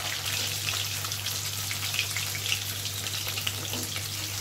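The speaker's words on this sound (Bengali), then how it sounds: "উল্টো দিকটাও আমি একইভাবে ভেজে নিচ্ছি।" Pieces of katla fish fry in oil in a pan, with a dense, even crackling sizzle close up throughout, and a low steady hum underneath.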